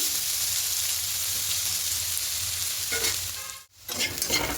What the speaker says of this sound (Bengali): এবারে আর ঢাকা দেবো না এভাবে করে ভেজে নেব